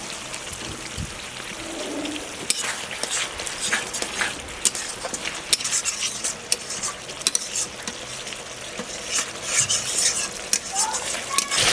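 Spice mix being stirred through a sizzling pan for potol malai curry, with repeated scraping and clinking of the spoon against the metal over a continuous frying hiss, close and fairly loud.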